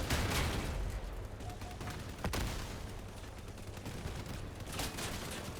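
Sustained machine gun fire in the vehicle combat game Crossout, a dense, continuous roar of rapid shots at steady loudness throughout, with no pauses.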